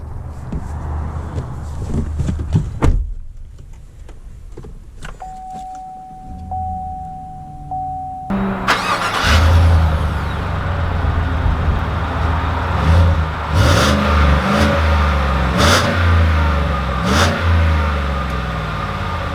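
A 2020 Chevy Tahoe Premier SUV starts up, with a chime sounding as the engine catches, then settles into a loud, steady idle and rumbling pull-away, with a few clunks and knocks inside the cabin.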